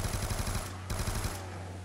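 An RPD machine gun fires in Black Ops 2 Zombies, loud rapid bursts with a short pause between them, each shot sharp and close against a steady game hum.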